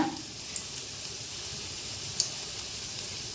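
Lentils fry in oil in a pan for Andhra-style paruppu podi, giving a steady, quiet sizzling hiss with a few faint crackles and no voices.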